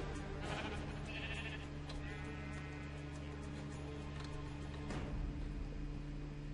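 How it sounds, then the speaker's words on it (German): Dense flock of sheep in Minecraft bleating over and over, overlapping calls layered on a steady in-game background hum, with no talking. "Schafe, sehr viele Schafe."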